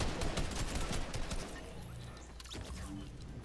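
Dense, rapid submachine-gun fire in a video game, a continuous rattle of shots running the whole stretch with scattered impacts, loud and close, with no talking.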